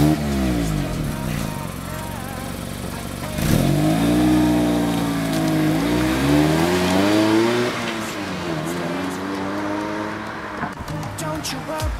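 A Mazda MX-5 with a 1.5-litre 131 hp engine revs and accelerates through repeated gear changes, pitch climbing and dropping in sweeps, loud and close, with music playing over it.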